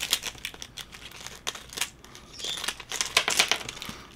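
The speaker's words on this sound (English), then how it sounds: "Now I've got to put them in a different bag because I cut the bag open." A plastic bag crinkles and rustles up close in short, irregular bursts as items are pushed inside, growing busier toward the end.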